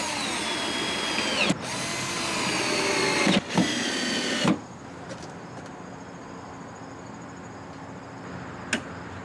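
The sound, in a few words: screws being driven through a mounting arm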